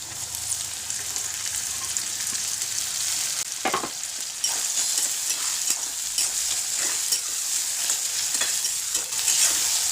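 Tomatoes with garlic and ginger sautéing in a pan for a smoky eggplant bharit with dried fish, giving a steady loud sizzle with scattered stirring scrapes and clicks throughout, no voices.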